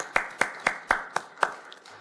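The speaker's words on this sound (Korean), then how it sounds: "송덕순 목사님을 치료하신 사랑의 하나님께 감사와 영광의 박수 올려드리겠습니다" Crisp, evenly spaced claps ring out close by at a church healing service, about six sharp beats in steady rhythm over two seconds.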